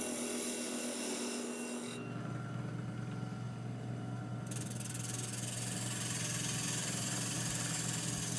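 Wood turning on a lathe while making a pen holder, a spindle gouge scraping the spinning blank; a steady motor hum under continuous rasping cuts that grow brighter and louder partway through, close and without voices.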